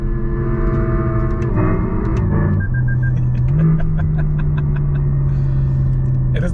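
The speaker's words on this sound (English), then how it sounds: "It is the fact that it rev bangs in here." Inside a 2026 Lexus RZ electric car in manual mode, a simulated engine note rises and shifts, with sharp popping rev bangs, loud and close inside the cabin.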